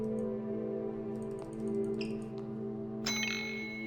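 Desk service bell rung repeatedly in Deep Sleep: Labyrinth of the Forsaken, several bright metallic dings ringing out over a steady droning background hum, the final ring louder and lingering, no talking.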